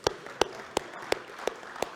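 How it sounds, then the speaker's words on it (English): A few hands clapping slowly at a Rotary club meeting, six evenly spaced sharp claps over about two seconds, close and distinct against a quiet room. "let's give her a round of applause."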